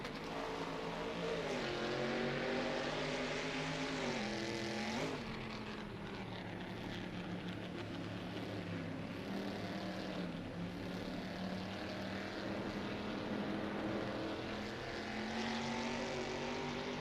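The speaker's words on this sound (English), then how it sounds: "You can hear the car's engine in the distance." A racing car engine from a 1960s legends GTC race in a video game, a steady droning hum with harmonics that dips and shifts pitch around the middle, heard from a distance at the finish line with no talk.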